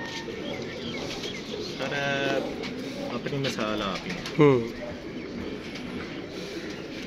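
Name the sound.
pigeons cooing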